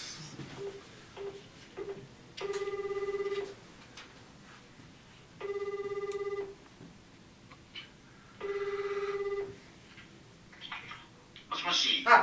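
Outgoing phone call ringback: three evenly spaced bursts of a harmonic ringing tone, each lasting about a second, separated by quiet gaps with faint background noise, and a brief rustle near the end.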